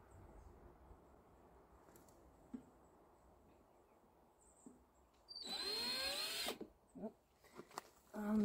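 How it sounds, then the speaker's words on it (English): A power drill bores into a piece of ash wood in a short whining burst of a second or so, with faint clicks and handling noises before and after in an otherwise quiet space. "we'll see how this drills"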